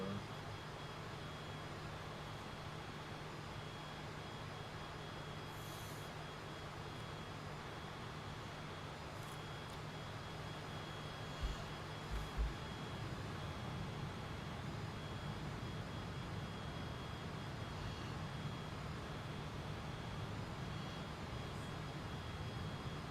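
An airplane engine in a flight simulator video game drones on steadily and quietly for over twenty seconds, a constant low hum with a faint high whine above it and a few soft clicks partway through.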